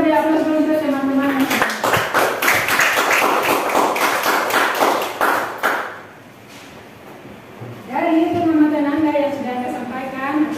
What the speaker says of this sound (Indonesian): jadi kita beri aplaus dulu untuk teman-teman